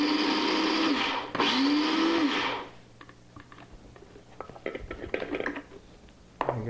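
A kitchen blender pulses a falafel mixture into a chunky paste, giving two loud, close motor bursts split by a brief pause. It then stops, leaving quieter clinks and handling noises.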